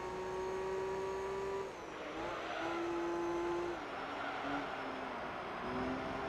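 Engine of an all-wheel-drive prize car in Gran Turismo 3 holds steady high revs near the start, drops briefly at a corner exit and then climbs again, loud and continuous with no voices.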